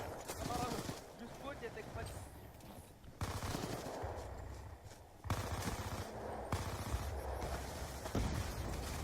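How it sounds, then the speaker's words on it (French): Submachine gun fire crossing back and forth in a Black Ops 2 match, bursts of rapid shots under someone talking, with quieter gaps between volleys. "Vous avez vu les tirs croisés énormes du match."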